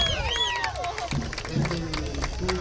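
A Muleshoe high school football crowd cheers and roars in a broad, sustained wash of voices, with whistling tones and scattered shouts rising over steady babble near the field.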